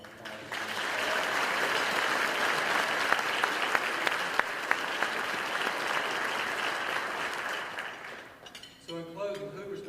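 A room of guests at the Hoover, Alabama State of the City address applauds the departing wait staff. Full, sustained clapping from a sizable crowd fades out after about eight seconds, followed by a few scattered sounds.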